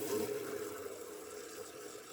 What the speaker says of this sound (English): drain some water into a bucket